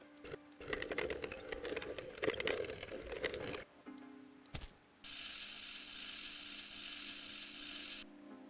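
Coffee beans ground in a cafe video game: a burst of rattling, ratchet-like grinding clicks, a brief pause and a knock, then a bright steady whirring hiss lasting several seconds before cutting off.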